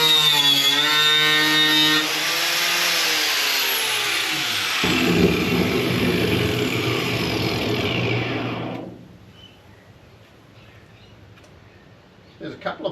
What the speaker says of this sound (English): I'll drill some of those spot welds out